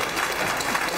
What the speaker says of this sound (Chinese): 借助您尊贵的双手，鼓出这个热烈的掌声